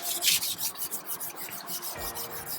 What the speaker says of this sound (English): So I will start off by sanding it down.